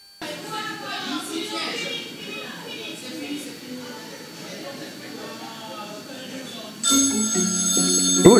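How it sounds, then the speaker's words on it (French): A telephone rings near the end, loud tonal bursts repeating over a background of talk and television-style chatter. "le téléphone sonne"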